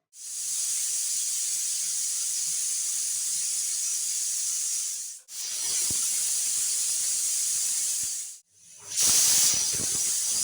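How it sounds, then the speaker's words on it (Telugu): A pressure cooker cooking French beans curry vents steam in long, loud, steady hissing blasts, three bursts separated by brief breaks, close by with no talk. "కుక్కర్ మూత పెట్టి విజిల్ పెట్టుకోండి"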